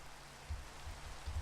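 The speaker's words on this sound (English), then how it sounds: "I know it's raining" Steady rain falls in the Minecraft game, a soft continuous hiss with faint low patters, quiet and without talk.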